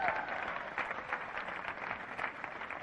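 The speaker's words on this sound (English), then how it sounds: "Give a round of applause." Audience applause at a live seminar, a moderately loud, uneven patter of many hands that swells and dips, with faint voices mixed into the crowd noise.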